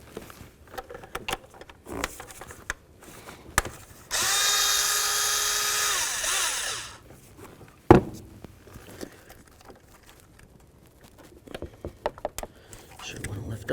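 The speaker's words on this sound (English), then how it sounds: "You're gonna use your 10 millimeter and you're gonna remove the mounting bolt right here." A ratcheting tool spins off a 10 mm mounting bolt on an ignition coil of a 2008-2012 Jeep Liberty, a loud whirring burst of about three seconds amid scattered handling clicks and quiet shop noise.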